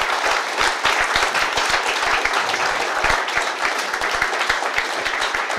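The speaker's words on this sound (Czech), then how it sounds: "abyste zatleskali všem našim diskutujícím" A debate audience in a Czech university hall applauds its panel of participants, steady dense clapping from many hands that fills the room evenly for several seconds without a pause.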